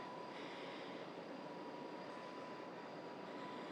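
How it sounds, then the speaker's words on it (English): A train on the line from Sentosa, Singapore, runs past as a steady, distant rumbling roar with a faint high whine, fairly quiet and continuous throughout, with no voices. "There's another train coming from Sentosa."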